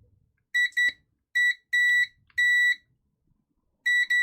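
Continuity beep mode on a multimeter testing a Game Boy Color circuit board: a series of short, sharp electronic beeps in irregular bursts, loud and clear against near silence.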